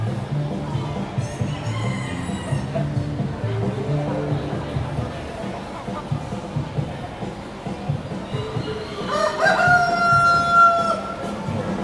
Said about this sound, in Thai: ไก่โปแลนด์นะครับ